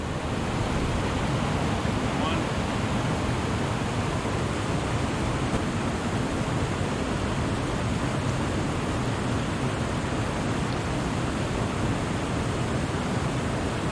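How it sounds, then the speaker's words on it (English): A small waterfall on the Allanwater River, a constant broadband rush of falling water close by, loud and unchanging with no voices over it. "We're in this little waterfall part"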